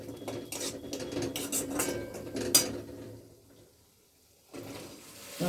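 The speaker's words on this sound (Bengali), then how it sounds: "তড়কাটা দিয়ে দিলাম।" Tadka, a spiced tempering with a little sugar, is added to a dish in a pan, giving clinks of a spoon on metal and a brief sharp sizzle, followed by a quiet stretch and then a renewed burst of clatter.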